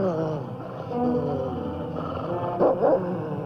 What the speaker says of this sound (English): The great dog King tried desperately to break from harness to pursue his master's assailant